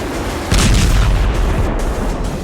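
Iranian missile explosion during an attack on Israel, a heavy low boom that swells suddenly into a loud, sustained rumble amid dense noise.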